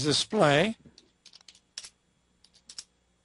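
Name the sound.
typing on a computer keyboard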